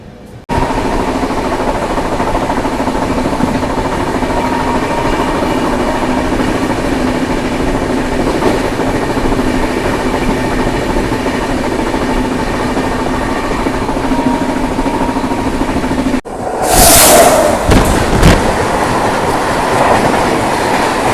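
A double-decker passenger train accelerates hard along the tracks with a loud, steady rumble and clatter, heard up close from on board, the sound shifting sharply near the end.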